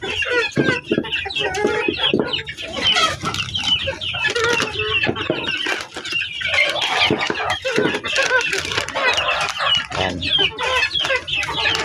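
Backyard chickens cluck and squawk loudly and continuously before feeding, a dense close flock chorus.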